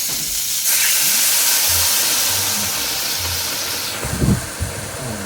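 Beef broth poured into a hot pan with a browned beef roast sets off a loud, close, sustained sizzling hiss that bursts in at once and holds steady, followed by a few low knocks and clatters near the end.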